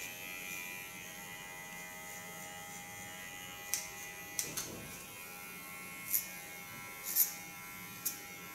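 An electric hair clipper cuts hair during an asymmetric clipper haircut, giving a steady, fairly quiet buzz throughout, with a few brief sharper clicks and touches toward the end.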